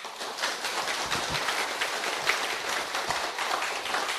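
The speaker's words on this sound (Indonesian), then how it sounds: "Tepuk tangan dulu." Dense, continuous clapping from a crowd fills the clip, loud and steady throughout.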